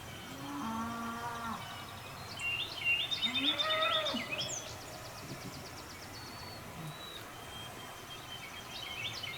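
A cow moos a couple of times at moderate distance, with birds chirping in the background of an outdoor field.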